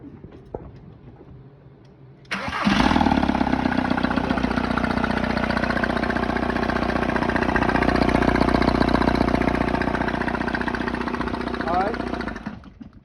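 A VW Jetta Mk4 TDI diesel engine cranks and fires after a quiet moment, then settles into a loud, steady clattering idle with ticking knock, close up and continuous until it is shut off near the end.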